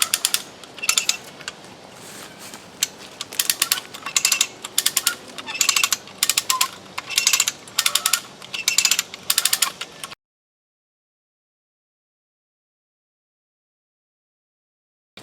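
A Harbor Freight Haul Master 2-ton cable come-along is cranked outdoors while dragging a tree. It gives a rapid series of sharp ratchet-and-pawl clicks in regular bursts for about ten seconds, then falls silent.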